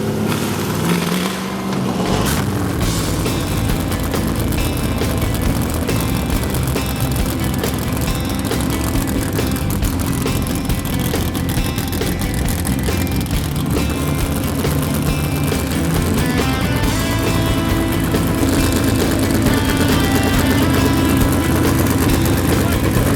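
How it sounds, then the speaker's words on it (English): A vintage racing car with no starter is push-started; after a brief scuffle the engine catches and runs loud and close, a sustained rough, throaty roar that continues without a break. "we're taking the car out to push start it"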